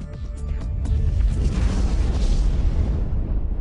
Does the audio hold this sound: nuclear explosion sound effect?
yes